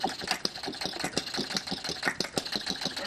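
A hit-and-miss engine idles in a shop, sounding uneven and irregular: a busy run of chuffs and knocks comes in bursts rather than a smooth, even beat, close and fairly quiet.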